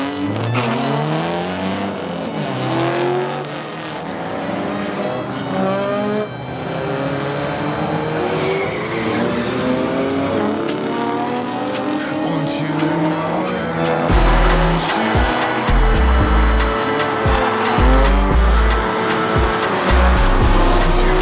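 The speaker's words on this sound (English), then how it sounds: "The last time we ever drift here at Western Speedway." Vintage cars drift around Western Speedway, engines roaring loud and close with long wailing tire squeals throughout, the roar swelling and growing rougher toward the end.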